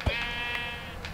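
A single short sheep bleat from Minecraft rings out clearly, a quavering nasal cry of about a second over a quiet game background.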